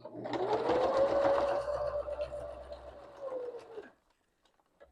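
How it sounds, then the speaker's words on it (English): A sewing machine stitches paper scraps in reverse, a close, steady motor whir with a rising and then falling pitch that runs for about four seconds before stopping abruptly. "so I'll just hit reverse and go back. And then I'm going to sew back down here."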